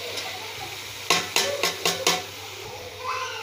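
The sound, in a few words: onion added to hot frying pan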